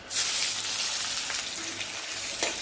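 Whole spices, dried chillies and bay leaves sizzle in hot oil in a wok, a steady close-up crackling hiss with a few faint pops and no voices.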